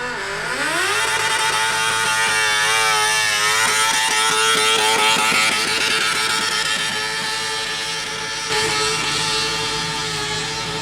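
Racing motorcycle engines in the 750 cc class scream past loudly, rising in pitch and holding a sustained high whine, with a brief shift in tone near the end and no talk.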